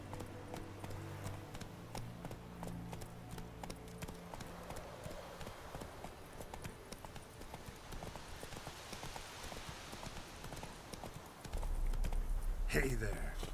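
Roach the horse from The Witcher III gallops with rhythmic clip-clop hoofbeats under game music, then heavier, louder hoof thuds near the end.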